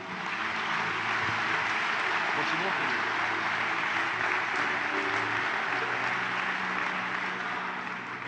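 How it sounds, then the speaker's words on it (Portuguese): Church congregation applauding during a worship service, a dense, steady wash of clapping sustained throughout while a voice speaks briefly over it. "Quantos podem aplaudir ao Senhor?"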